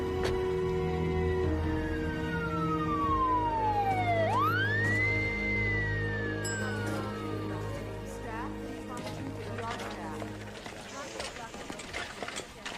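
An ambulance siren wails in a crime drama, sweeping down and up in long glides, passing near and then fading, with traffic noise and other sounds beneath it.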